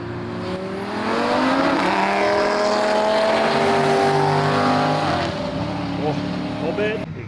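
A 1000HP Audi RS3 race car accelerates hard at a racing event, its engine rising in pitch for several seconds then easing off, loud and fairly close, with crowd voices and other racing noise in the background.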